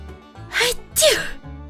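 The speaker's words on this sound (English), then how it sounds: "Achoo!" Two loud, close sneezes in quick succession, each a sharp burst with a short breath before it, standing alone against a quiet background.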